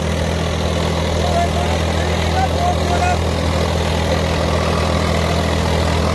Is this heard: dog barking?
no